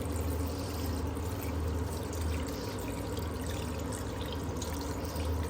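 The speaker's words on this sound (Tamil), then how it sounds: "இதுக்கேற்ற அளவு தண்ணி அப்படியே மட்டத்துக்கு வீட்டுக்கேற்ற மாதிரி அப்படி விடுவோம்" Water poured steadily into a pot for chicken soup with vegetables, a continuous splashing stream filling the vessel, close and even throughout with no talk.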